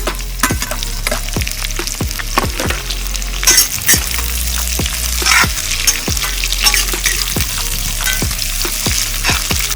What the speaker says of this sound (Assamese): পিঁয়াজখিনি এতিয়া আমি মজাকৈ ভাজি ল'ম।